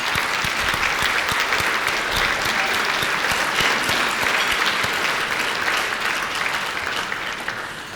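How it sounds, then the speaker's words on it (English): Sustained applause from an audience at an agricultural awards event honoring soybean association board members, dense and steady clapping that holds for the whole stretch and tapers slightly at the end. "A round of applause."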